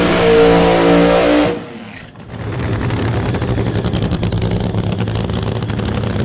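A Camaro altered fuel funny car does its burnout at a drag strip, a loud roaring engine that cuts off abruptly, then a rough rumbling idle and crackle carries on steadily.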